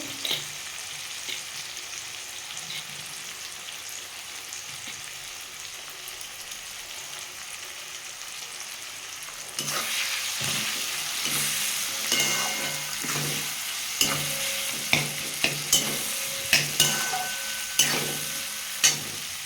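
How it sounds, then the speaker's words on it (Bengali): Ginger-garlic paste frying with browned onions in a pan, a steady close sizzle that grows louder and busier partway through, then regular sharp clacks of a spoon stirring and scraping against the pan. "এই অবস্থায় আমি আদা রসুনের পেস্টটা দিয়ে একটু ভেজে নেবো"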